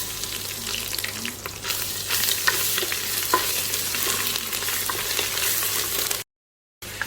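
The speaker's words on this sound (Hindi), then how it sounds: "नेक्स्ट हम इसके अंदर लहसुन और अदरक डाल देंगे।" Garlic and ginger sizzle in hot oil with star anise, cardamom and cloves in a pot for aloo gosht, stirred continuously with scraping sounds over a steady frying hiss, close up, cutting out briefly near the end.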